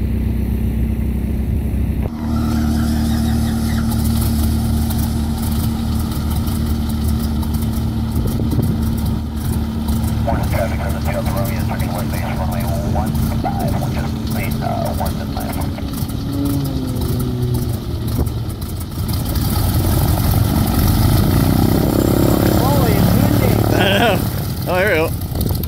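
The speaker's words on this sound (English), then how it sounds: "Army training biplane." A 1941 Stearman army training biplane engine idles with a steady low rumble throughout, loud and close, with people talking over it in places and a brief louder surge near the end.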